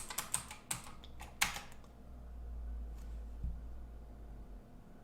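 Login credentials being typed on a computer keyboard, a quick run of close, crisp key clicks for about a second and a half, then quiet with a faint low hum and a single stray tap.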